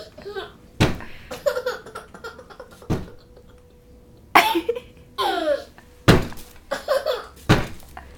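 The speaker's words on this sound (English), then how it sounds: "You're banging the paint off my wall." A child repeatedly bangs a chair against a wall indoors, giving sharp, loud thunks at irregular intervals, with a child's giggles and vocal sounds between the hits.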